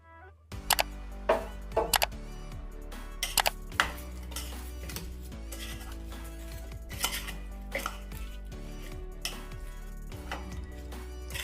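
Mango pickle is mixed with oil in a metal vessel, giving repeated clanks and scrapes of a spoon against the container at an uneven rhythm, close and fairly quiet.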